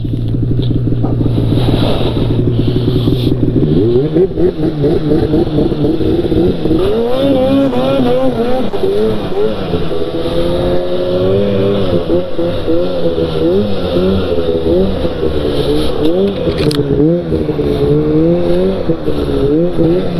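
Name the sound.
snowmobile engine driving off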